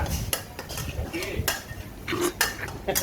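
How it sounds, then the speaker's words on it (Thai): A metal spatula clanks and scrapes against a wok while stir-frying basil pork with long beans, in quick, irregular knocks, with faint sizzling beneath. "ผัดกับข้าวต้องเคาะกระทะ"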